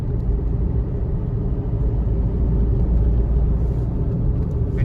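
A Hyundai i20 hatchback cruising in 6th gear on an Indian road gives a steady low engine and road rumble from inside the cabin, even and unbroken throughout.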